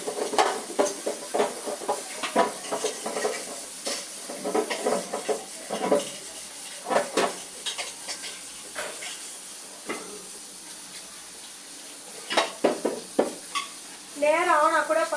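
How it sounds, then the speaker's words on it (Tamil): A cooking pot is scrubbed and washed in a home kitchen while making sweet pongal, giving irregular scraping, rubbing and clinking strokes with water sounds close by, and a voice talks intermittently. "அதனால நான் இன்னொரு வாட்டி நல்லா தேய்ச்சி கழுவிக்கிறேன்."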